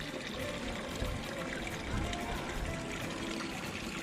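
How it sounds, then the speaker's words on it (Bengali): Water running from a public city fountain in Bern while a bottle is filled, a steady broadband splashing stream that stays even throughout, with a voice talking over it. "এবং আমি এখান থেকে জল ভরবো এখন।"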